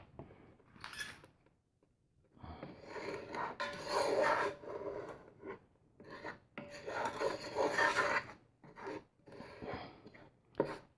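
Quiet scraping of a spoon stirring milk into melting sugar in a pot, in irregular rasping bursts separated by short pauses, close and soft with no talking.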